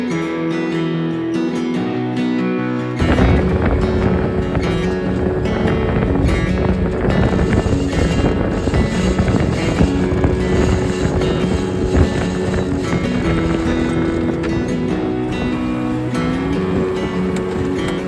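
Strong gusting wind roars across the microphone aboard a sailboat at sea in 15 to 25 knot conditions, starting after a quieter opening, with engine-like tonal hum and rushing noise throughout.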